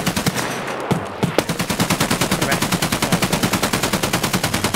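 Automatic gunfire in Escape From Tarkov: a few scattered shots, then a long, loud, rapid, evenly spaced burst that rattles on to the end.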